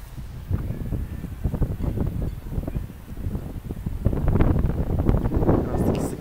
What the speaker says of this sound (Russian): Здесь ветер не сильно мешает слушать.